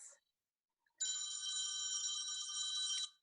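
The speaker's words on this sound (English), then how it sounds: "That's the timer" A timer goes off with a telephone-bell-style ring, a loud, continuous trill of about two seconds heard alone after a brief quiet moment.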